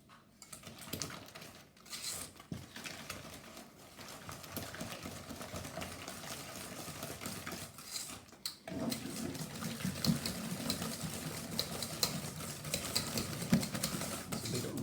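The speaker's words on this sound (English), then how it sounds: "in order to do this I'm going to use a whisk" A whisk clatters rapidly against a bowl as eggs are beaten into softened butter and sugar, a close, busy rhythmic clicking that grows louder and denser in the second half.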